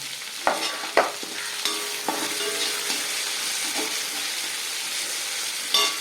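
Onions sauté in a pan, a continuous close sizzle broken by several sharp stirring clatters of a utensil near the start and again at the end, with no talking.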